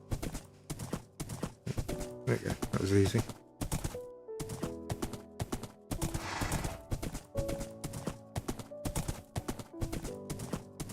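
Horse hooves clip-clop steadily in a Minecraft world, a quick run of regular clattering steps with a rhythmic pulse, heard under occasional talk and game music notes.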